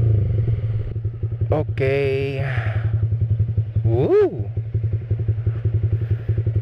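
A Yamaha Vixion R motorcycle fitted with a new Pro Liner TR-1 Pro exhaust idles close by with a steady, throaty pulsing rumble, briefly revved once, while someone speaks a short word over it.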